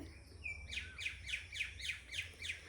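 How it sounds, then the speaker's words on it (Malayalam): Birds chirp outdoors in a steady, repeating pattern of about six bright, sweeping calls over a quiet low background hum. "നല്ലപോലെ കിളികളുടെ സൗണ്ട് ഒക്കെ ഉണ്ട്"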